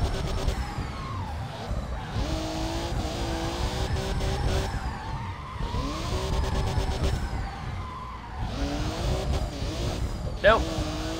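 Cars drifting in the Russian Drift Series racing game, engines revving and rising with tyre squeal and skidding throughout, close and loud, with sharper squeals near the end and a voice talking over it.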